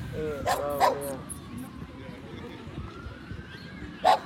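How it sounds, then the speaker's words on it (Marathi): Dogs in Hyde Park bark in a few sharp, fairly close bursts, two quick barks early on and another a few seconds later, over outdoor background noise with people talking nearby. "नुसती कुत्री आहेत."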